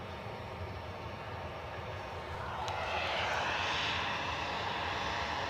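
A Boeing 767-300 jet airliner from New York JFK passing at Edinburgh airport, a broad steady jet roar that swells louder midway and holds, heard from the ground at a distance.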